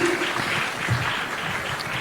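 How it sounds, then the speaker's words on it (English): Audience applause at the ThinkEDU 2016 education conclave for Dr. Farooq Abdullah after his speech, a steady, dense wash of clapping from a sizable crowd, loud and continuous throughout. "a huge round of applause for him"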